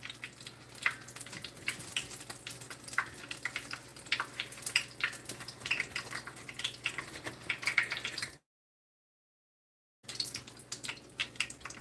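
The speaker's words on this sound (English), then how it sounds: "Sounds like I'm frying something, doesn't it?" Steady crackling sizzle of food frying in hot oil, with irregular pops and spatters, briefly cutting to silence before resuming.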